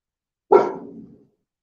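A single short bark from a nearby pet dog indoors, a sharp burst that trails off over about half a second, followed by silence.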